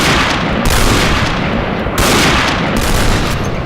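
Loud, dense gunfire from the Free Fire video game during a headshot kill, a continuous roar of shots with two brief dips in intensity.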